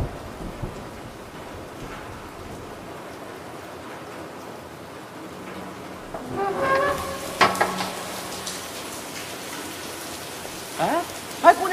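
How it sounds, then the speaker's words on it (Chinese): Steady rain falls outside on an afternoon with a typhoon expected, a constant hiss under the whole stretch, with brief louder bursts of movement and knocking toward the end and no talk. "外面下着雨呢"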